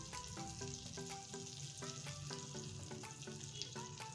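Pav bread roasts in melted butter with red chilli powder for masala pav, giving a soft, steady sizzle under prominent background music.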